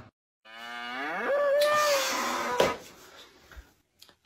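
A red bull in a village gives one long, drawn-out moo that rises then holds steady for about two seconds, fairly close, followed by a brief knock and quiet rustling.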